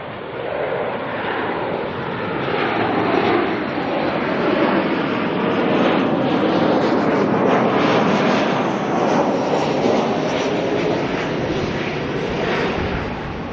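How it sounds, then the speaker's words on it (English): A Qantas Boeing 737 jet arriving from Sydney to land at Auckland Airport, a steady loud broadband roar of jet engines that holds throughout without any talk. "we do have a Qantas 737 coming in from Sydney"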